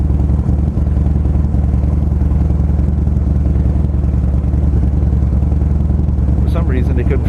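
A 2006 Harley-Davidson Softail Deuce sits idling to warm up, a steady loping low engine rumble close by that continues throughout, with a brief higher sound near the end.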